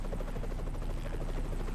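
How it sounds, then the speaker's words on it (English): A helicopter in Splinter Cell: Conviction thrums steadily, its rotor chop a continuous, fairly loud pulsing drone with no talk over it. "Yeah, the helicopter's just fine."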